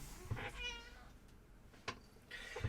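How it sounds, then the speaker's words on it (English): A cat meows loudly and insistently at close range, three drawn-out cries with pauses between, the last starting at the end, with no talking over them. "I've got the cat won't shut off."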